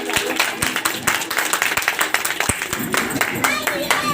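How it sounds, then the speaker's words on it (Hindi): Loud clapping from a crowd at an Indian BJP candidate's campaign gathering, brisk uneven claps close by with voices and crowd noise mixed underneath. "एक बार इनके लिए जोरदार तालियां।"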